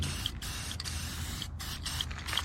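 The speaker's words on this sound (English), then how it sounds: "I can go ahead and give this thing a fresh coat of black paint." Black spray paint hisses from an aerosol can onto a roof rack in several short bursts with brief pauses between them.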